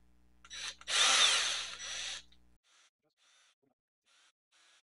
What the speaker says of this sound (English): Drill out the holes for this.